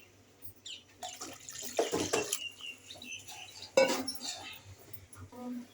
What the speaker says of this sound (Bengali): ডিমগুলো আমি দিয়ে দিয়েছি কড়াইতে